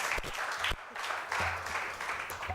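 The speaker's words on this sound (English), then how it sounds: "Please, let's clap for him" Audience members clap for a managing director at a business strategy event, a moderate, uneven patter of hands with brief louder bursts and little else heard.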